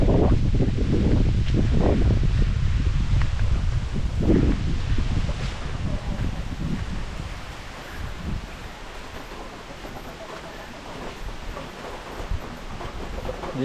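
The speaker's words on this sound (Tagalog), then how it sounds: "Ayan, lakas na ng ulan." Heavy rain pours down outdoors in a steady, dense broadband wash, loud at first with gusty rushes, then settling to a constant roar for the rest of the clip.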